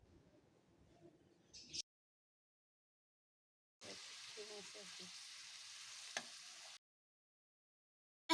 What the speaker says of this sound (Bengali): গাজর এবং আলুকে হালকা একটু মশলার সঙ্গে ভেজে এখন বাঁধাকপিগুলো দিয়ে